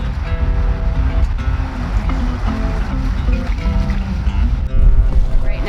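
A catamaran motors through a lagoon with a steady low engine-like rumble and rushing water, wind buffeting close by and a louder surge near the end.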